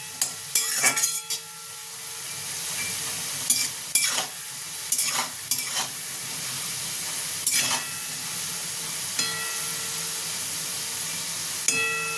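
Potatoes frying in a pan for a chichinge and prawn curry, a steady sizzle with scattered clinks and scraping stirs, close and without any talk.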